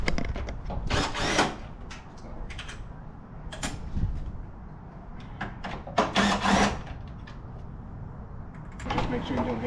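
A power tool works the bumper bolts on a 1995 Chevrolet Silverado, several short loud bursts with pauses between them, and someone talks throughout.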